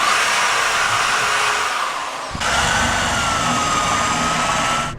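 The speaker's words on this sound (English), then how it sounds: "I'm gonna drill this out until I get to 1/2 inch" Power drill boring out a hole to half an inch in a suspension strut on a 2006–2011 Honda Civic Si, loud steady whirring that dips briefly midway then resumes, close by and with no talk.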